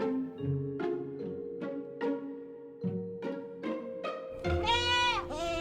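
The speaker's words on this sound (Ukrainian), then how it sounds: "Овечка або вівця." A sheep bleats repeatedly, about eight wavering calls in quick succession, close and clear with no talking.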